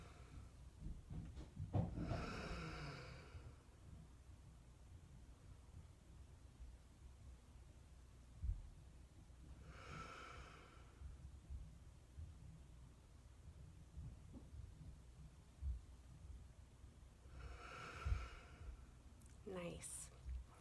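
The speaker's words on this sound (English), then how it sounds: "Let's take a few breaths together." Slow, deep breaths during a calm yoga class, three long airy exhalations spaced several seconds apart, soft and close against a quiet room.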